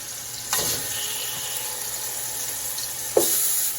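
Turkey wings hit a hot pan with two sharp bursts of sizzling, one early and one near the end, over a steady hiss of frying, close and moderately loud with no talking.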